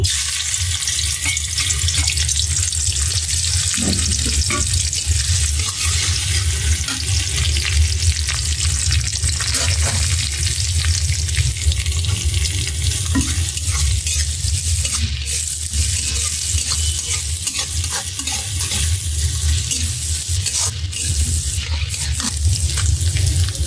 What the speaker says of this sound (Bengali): এখানে কড়াইতে তেল দিয়ে দিলাম, শাকটা আগে রান্না করব।